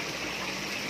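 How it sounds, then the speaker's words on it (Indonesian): Water trickles steadily into a fish pond with a cracked, leaking wall, a continuous close splashing and gurgling wash with no voices. "airnya saya buat dripping sedikit ya, supaya menutupi kebocoran tersebut ya"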